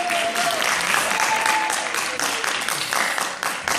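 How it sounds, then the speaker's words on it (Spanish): An audience at a school talk breaks into a short burst of loud, dense clapping that continues evenly for a few seconds. "un aplauso porque no es fácil"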